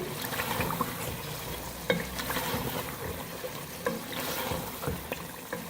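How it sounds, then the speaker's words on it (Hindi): Chicken cooked with four dried plums (aloo bukhara) for biryani sizzles steadily on a medium flame, a continuous close frying hiss with occasional stirring knocks. "अच्छी तरह से मिक्स करेंगे और इसको भूनेंगे मीडियम फ्लेम पे"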